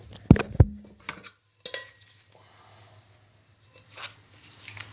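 Metal lid of a Stanley cooker pot handled close up: a few sharp clanks and rattles at the start, then a scrape, with quieter handling clatter later and no talk.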